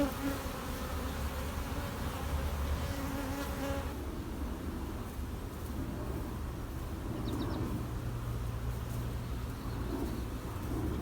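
Honey bees buzzing around a hive nuc, a dense, continuous droning hum that stays fairly loud and close throughout, with a faint low rumble from something in the background.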